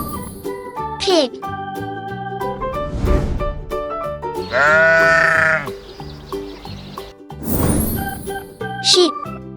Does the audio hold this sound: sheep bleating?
yes